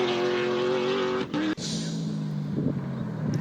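A Subaru Impreza rally car on a gravel stage in Bronkhorstspruit, its engine note holding a steady high whine before a brief gear-change dip, then a rougher, lower drone as it pulls away, loud and fairly close.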